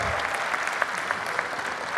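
Steady applause with scattered cheers from a large outdoor audience at a UC Berkeley commencement, dense clapping sustained throughout with a voice faintly underneath.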